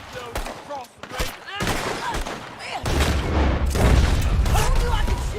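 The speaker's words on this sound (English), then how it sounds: "I told you I could shoot a gun, didn't I?" Gunfire in the Red Dead Redemption 2 video game, with dense volleys of shots and booming blasts that build into continuous heavy firing, loud and close, with voices speaking over parts of it.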